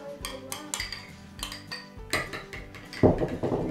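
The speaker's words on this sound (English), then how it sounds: "You're gonna mix that with the sour cream." A spoon clinks and scrapes against a dish while garlic and mayonnaise are stirred into sour cream in a home kitchen, with irregular close taps and scrapes that grow louder toward the end.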